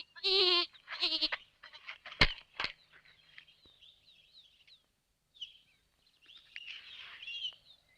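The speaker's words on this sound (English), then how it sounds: "There are goats here." Goats bleat close by on a remote island, a loud wavering cry followed by a second shorter bleat, then scattered clicks and faint bird calls over quiet background.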